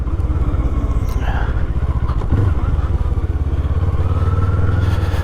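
A cruiser motorcycle with a stock exhaust rumbles steadily while riding in 20-degree weather, a loud low engine drone with wind noise and a brief clunk partway through.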